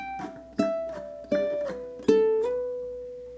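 Plucked ukulele notes gliding between pitches in steady eighth-note slides, three clear attacks each bending into the next tone, close and alone with no talking.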